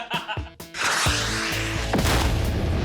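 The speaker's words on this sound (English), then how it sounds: "With the SUV leaping into the air and exploding on cue." Staged car crash stunt in which an SUV leaps into the air and explodes: a short lead-in of knocks gives way to a loud, close blast that settles into a sustained roar for the rest of the clip.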